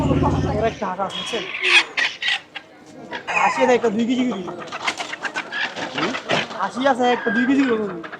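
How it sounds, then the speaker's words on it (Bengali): Chickens cluck among pigeons and other fowl at a traditional village market in Betka, Munshiganj, Bangladesh, close and busy, with someone talking over the birds throughout. "এদিকে হচ্ছে মুরগি এই যে মুরগি বিক্রি হচ্ছে দেখতে পাচ্ছেন বেতকা বাজারে"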